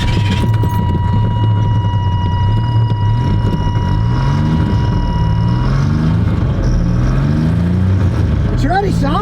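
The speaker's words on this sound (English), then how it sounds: "Start it up and run it a little." Car engine running at idle just after a MAP sensor repair, a steady low throbbing hum close by with a faint whine, continuous for the whole stretch with talk over it.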